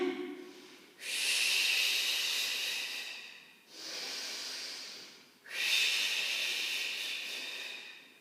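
An inhalation during a Pilates exercise, lying with palms on the floor in a Hundred variation: three long, breathy hissing breaths, each several seconds long with brief pauses between, close and fairly loud.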